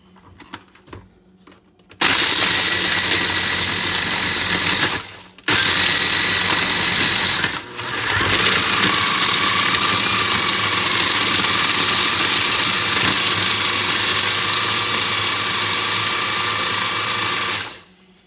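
A KitchenAid machine grinds crackers into cheesecake crust, running as a loud, steady whirring motor for most of the stretch with two brief stops, then cutting off near the end.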